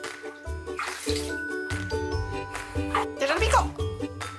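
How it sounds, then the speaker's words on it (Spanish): Water splashing in a baby's bath, with intermittent sloshes and drips close by while an adult talks over it. "¡Te salpico! ¡Ya te salpico!"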